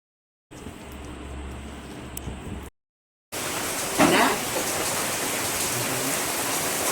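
Heavy rain pours in a dense, roaring hiss, cut off briefly by a short silence, then resuming louder and steady to the end.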